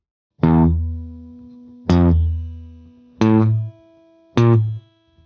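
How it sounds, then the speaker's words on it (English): Four separate guitar notes, each plucked sharply and cut short, with distorted electric tone and pauses between them. "don't stab at the notes like this"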